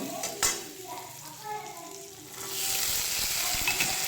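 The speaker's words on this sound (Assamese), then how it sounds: "কেঁচা মটৰখিনিয়ে গৰম কেৰাহী পাই ফটৰকৈ ফুটি থাকি কেৰাহীত নৃত্য কৰিবলৈ ধৰিলে" Raw peas and potatoes hit a hot wok, starting with a few scattered knocks, then breaking into a dense, loud sizzle with sharp pops in the second half.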